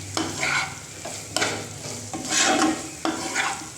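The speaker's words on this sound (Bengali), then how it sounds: "এবার এটাকে একটুখানি কুক করবো চিংড়ি মাছটাকে" Prawns stir-frying in a spice masala for prawn malai curry, a steady close sizzle and frying hiss with periodic scraping strokes of a spatula in the pan, no voices.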